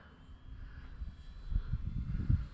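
An Arrows RC Trekker model airplane flies at full speed with the wind, its electric motor a faint, distant droning hum heard alone against outdoor ambience.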